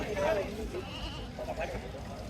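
A goat bleats twice in short, wavering calls over a steady background murmur, fairly close by, at a goat market in Chalisgaon.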